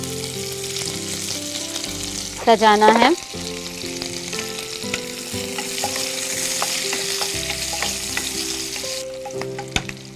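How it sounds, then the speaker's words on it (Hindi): Sliced onions fry in hot oil in a pan until browned, giving a continuous crackling sizzle punctuated by a brief louder burst of stirring, while a person speaks briefly near the end. "अब इसमें हम डालेंगे प्याज और उसे भी लाल करके बाहर निकाल लेंगे।"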